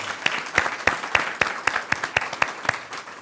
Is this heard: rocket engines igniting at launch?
no